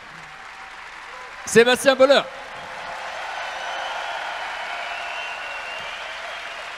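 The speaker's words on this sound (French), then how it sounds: "je vous fais applaudir régulièrement, c'est pour la dopamine," An audience at a business leadership talk breaks into applause just after someone briefly says a name. The clapping rises into a steady, even wash that lasts to the end.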